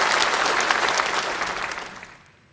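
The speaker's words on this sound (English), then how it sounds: "please applaud for its approval" Delegates at a political conference applauding to approve the agenda, a dense burst of clapping from a large hall that fades out over about two seconds.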